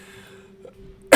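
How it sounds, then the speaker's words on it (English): A single sharp, loud cough from a man still recovering from the flu, close by, bursting out at the very end after a quiet room. "I still can't breathe and I'm coughing like crazy."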